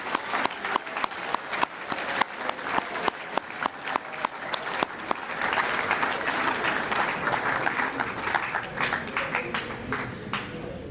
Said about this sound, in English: Let's give all the students a round of applause for all your hard work.